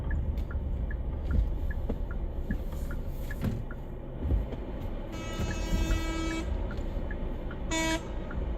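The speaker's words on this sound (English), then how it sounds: "They ain't honking at me, that's for sure" Car horns honking in Cleveland street traffic, heard from inside a vehicle: a sustained horn blast mid-clip, then a shorter honk near the end, over steady road rumble and a faint repeating ticking.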